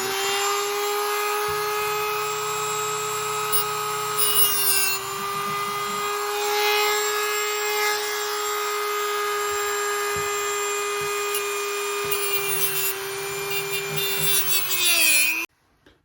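A Dremel rotary tool carves a pinch point on a part of a Homelite 360 chainsaw, giving a loud, steady high-pitched whine with brief grinding scrapes, then winding down abruptly at the end.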